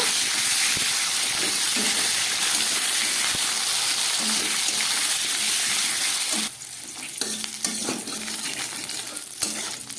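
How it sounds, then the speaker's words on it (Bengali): Potato and cauliflower pieces fry in a wok (kadai) with a steady, loud sizzle and hiss. Partway through, the sizzle drops a little and irregular stirring scrapes and clinks break in over it. "খুব ভালো করে এবার আমি ভেজে নেব"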